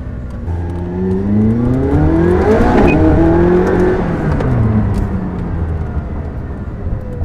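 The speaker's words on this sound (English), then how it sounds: "It's a nice acceleration to 30 mile an hour" A supercar accelerates hard up to 30 mph, its engine note climbing steadily in pitch as it builds speed, loud and close throughout with a smooth rising roar and no talking.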